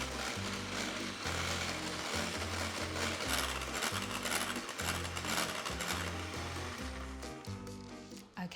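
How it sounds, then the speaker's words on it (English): Steady electric whisk whirring as it whips double cream to stiff peaks for a no-bake cheesecake, a close, continuous motor drone with slight rhythmic pulsing as the beaters move through the bowl. "Grab your electric whisk again, or you could do this by hand"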